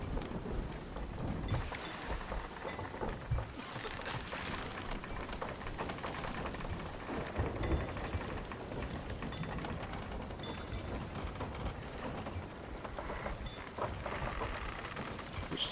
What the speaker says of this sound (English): We're going to end up going into the storm.